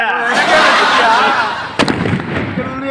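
A firecracker goes off with two sharp, loud bangs in quick succession, right after a stretch of people talking, followed by a crackling tail.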